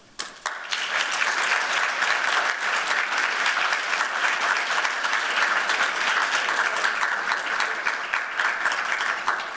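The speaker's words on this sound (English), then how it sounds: "Please, a big round of applause for Uni Kim." Round of applause from a symposium audience, starting abruptly and holding as steady, dense clapping throughout, with no speech over it.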